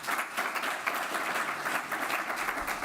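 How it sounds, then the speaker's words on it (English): Conference audience applauding a speaker, a full, continuous wash of many hands clapping at once, loud and even throughout the short stretch, with no talking on top. "Please a round of applause for Ricardo"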